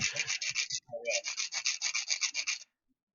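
Rhythmic rasping strokes of sanding, back and forth in quick regular passes, close up, with a brief pause before continuing and then stopping.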